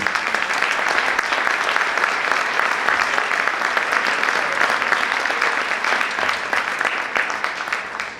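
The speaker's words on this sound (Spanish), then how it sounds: "Les pido un aplauso, por favor, para Emma" A room full of people applauds a speaker named Emma at a panel on education, with dense, steady clapping that holds loud throughout before easing slightly at the end.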